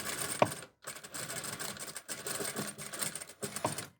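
A sewing machine stitches a tank top in close, rapid mechanical runs, pausing briefly a few times between bursts with small clicks of the mechanism.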